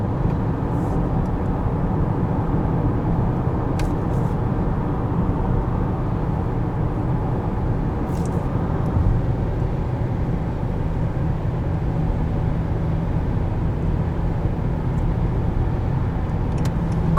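A 2021 Honda Accord 2.0T Sport accelerating in third gear, heard from inside as a steady loud low engine drone mixed with road and tire roar, with no talking.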